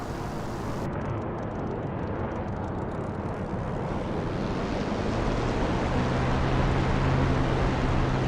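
A Spitfire's piston engine drones in a flight simulator, a constant broad roar with rushing wind that holds level and steady throughout, loud and close, with no voices.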